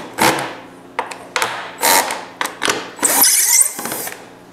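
A small magnetic-head driver spins bolts off a shop dolly in short bursts of whirring and rattling, with clicks and clunks between runs, close and fairly loud.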